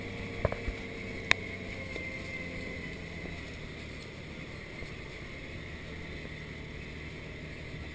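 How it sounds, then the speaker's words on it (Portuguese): A Valtra S 353 tractor pulling a 15-row soybean planter in the field, its engine giving a steady, even drone throughout, with a couple of sharp clicks near the start. "É trator operando com a plantadeira de 15 linhas."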